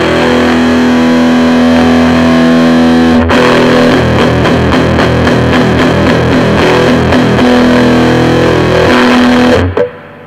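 An electric guitar plays through a Mesa Boogie Recto Verb 25 amp with the treble fully up and the mids turned up. Loud, heavily distorted chugging riffs and sustained chords ring out, then cut off abruptly near the end.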